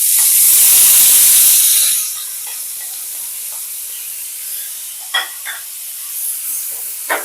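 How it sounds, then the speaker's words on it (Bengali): Onion, garlic and slit green chillies dropped into hot oil, a loud burst of sizzling hiss that settles into a quieter steady frying with a few soft stirring clicks. "এবার এগুলোকে একটু ভেজে নেব পেঁয়াজ রসুন যতক্ষণ না নরম হয়ে আসছে ততক্ষণ আমি একটু ভেজে নেবো"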